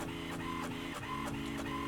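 An inkjet-style printer feeding and printing a sheet of iron-on transfer paper, a steady close mechanical whirring with periodic carriage passes and clicks repeating roughly every third of a second throughout, no talking.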